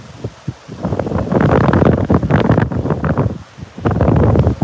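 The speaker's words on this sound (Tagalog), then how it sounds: "Hangin lang po at medyo malakas na alon." Strong typhoon gusts in Camarines Sur, Philippines, buffet the microphone in loud, uneven bursts, with leaves rustling beneath the roar.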